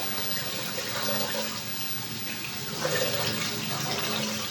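Water sloshing and trickling as rice is gently swirled in a pot of water to rinse off dirt, a steady soft wet splashing with no talk.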